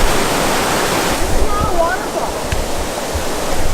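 Steady broadband rush of flowing stream water, continuous and fairly close, with faint brief tones and rustles over the constant wash.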